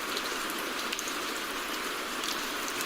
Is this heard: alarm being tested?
no